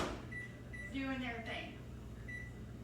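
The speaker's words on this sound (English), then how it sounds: "I'm going to go ahead and throw those in the microwave for 5 minutes" A kitchen microwave oven heating peas and carrots hums faintly in the background with a few beeps, while a person talks over it.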